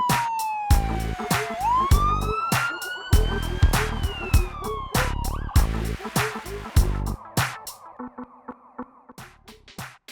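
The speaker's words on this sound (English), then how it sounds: "Ambulances are large vehicles with bright flashing lights and a loud siren." A loud siren wails and sweeps in pitch, close by, with sharp rhythmic pulses and clatter, gradually fading toward the end.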